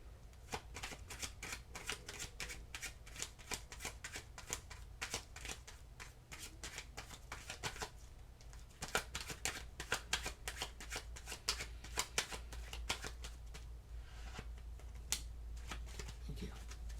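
Tarot cards shuffled over and over in a steady run of crisp riffling bursts, close and fairly quiet, with a low background hum underneath.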